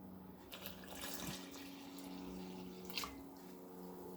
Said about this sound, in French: On va verser notre lait tiède